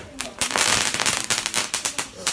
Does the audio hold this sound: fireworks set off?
yes